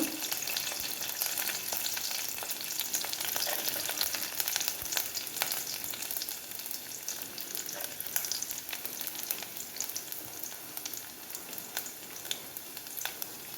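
Chopped garlic and ginger fry in hot oil for a mango pickle, a close, steady sizzle and crackle with occasional stirring clicks and no speech.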